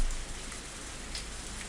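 In the Higurashi When They Cry visual novel, heavy rain pours steadily at night as a dense, even hiss of drops on surfaces, with no voices.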